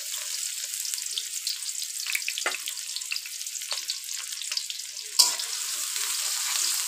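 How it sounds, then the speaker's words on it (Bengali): Chopped onions sizzle steadily in hot oil in a pan for a stuffed pointed-gourd filling, a continuous bright crackle with scattered pops and one sharp clink of a utensil. "পেঁয়াজ ভাজা নেব"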